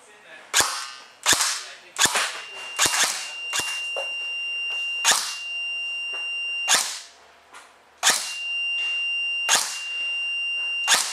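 A G&G RK Beta Spetsnaz full-metal electric airsoft rifle fires loud, sharp close bursts and single cracks separated by pauses, with faint tonal beeps in between.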